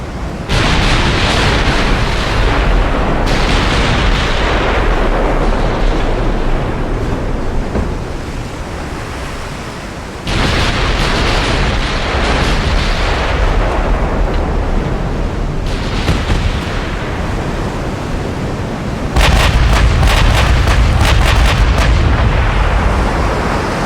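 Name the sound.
battleship gunfire in the video game Ultimate Admiral Dreadnoughts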